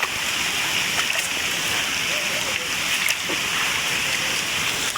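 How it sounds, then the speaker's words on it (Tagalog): Steady rain hisses down outdoors on a crab-hunting trip, a dense, even wash of patter with a few faint splashes, continuous throughout. "Naulan na."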